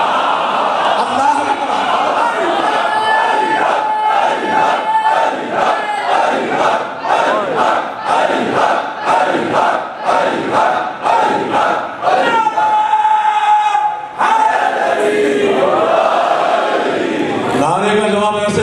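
A crowd at a Muharram religious gathering in Wah Cantt shouts loud, rhythmic slogan responses in repeated bursts, mass voices swelling and dropping with brief gaps between chants.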